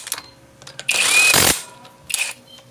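Bolt being tightened on a Kawasaki Barako 175 motorcycle engine, heard as a few short, close mechanical bursts of tool noise, with one longer grinding run in the middle.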